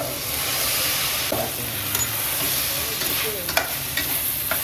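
Cooked peas tipped into frying vegetable pulao, a steady close sizzle with stirring scrapes and small clatters of a spoon against the pan.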